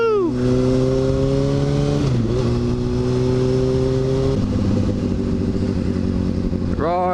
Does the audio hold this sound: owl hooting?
no